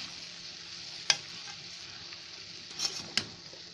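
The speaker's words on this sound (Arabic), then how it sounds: "اللحمه كده شوحتها كده مع البصل" Meat frying with onions in a pan gives a steady soft sizzle, broken by a few sharp scraping clicks from stirring, close and moderately quiet with no talk.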